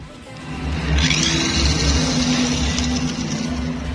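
A Tamiya mini 4WD car with a VZ chassis and speed gear runs its small electric motor, a loud continuous buzzing whir up close that rises in pitch after a second and holds steady.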